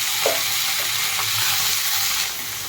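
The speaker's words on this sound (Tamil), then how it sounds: "ஆட் பண್ணிவிட்டு எல்லாமே நல்லா வதக்கி விடலாம்" Tomatoes sautéing in a pan for a Tamil-style crab curry, a steady broadband sizzle with a few soft stirring scrapes, fairly close and continuous, easing slightly near the end.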